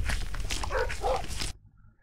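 Dog barking inside the Mimic horror video game, a few quick barks over a dense game soundscape for about a second and a half before cutting to near silence.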